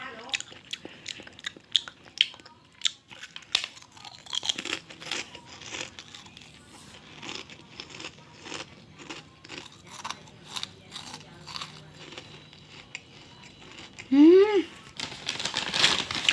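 Close-up crunching of crispy shrimp chips, repeated bites and chewing with small crinkles and a brief murmured vocal sound near the end.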